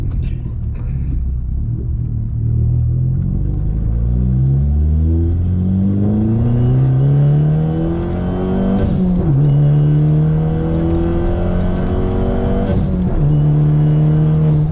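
A Fiat Punto Abarth Evo with stage 2 tune, 215 hp, drives in sport mode, its engine and exhaust loud from inside the car, revving up through rising pitches with gear changes and bursts of acceleration.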